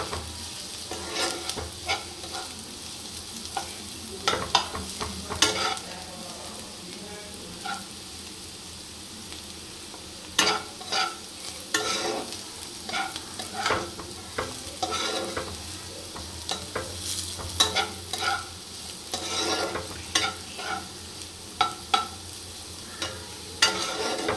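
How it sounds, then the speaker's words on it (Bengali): Onions and potatoes frying in a pan give a soft continuous sizzle, broken by frequent sharp scrapes and clinks of a spatula stirring, close and with no talking. "পেঁয়াজটা লাল লাল করে ভাজা হয়ে গেল মনে হচ্ছে"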